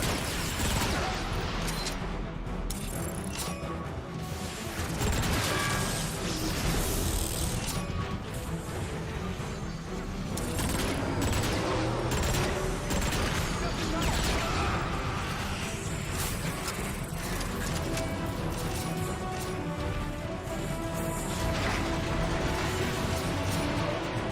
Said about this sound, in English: They're firing rockets at us!